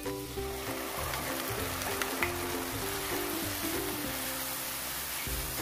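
Garlicky seasoning sauce bubbles and sizzles with pork belly in a wok over high heat, a steady dense hiss with a low churning rumble throughout.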